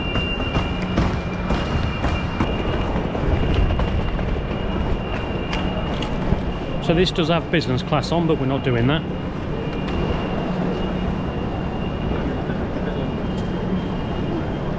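Interior of an Elizabeth Line Class 387 train, a steady low rumble and hum of the carriage running throughout, with someone speaking over it partway through.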